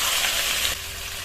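Chopped tomatoes hit a little hot oil in a kadai, giving a loud, steady sizzle and hiss that eases slightly partway through.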